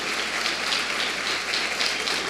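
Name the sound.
congregation applauding in church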